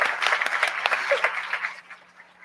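Warm audience applause at a TEDx event, brisk clapping from a crowd that thins and fades out toward the end.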